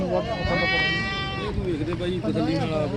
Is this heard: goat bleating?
yes